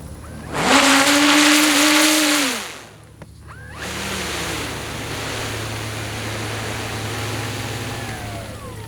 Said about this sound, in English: I want to see how short I can bring this in, of course utilizing the reverse thrust